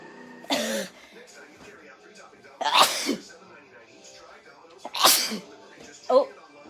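Three loud, explosive sneezes from a person allergic to a cat, spread out over several seconds with a short throaty sound at the end, close to the listener with quiet pauses between them.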